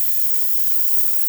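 Steady, loud hiss of steam jetting from the steam wand of a Jura Impresa F9 coffee machine, continuous and even without any break or voice.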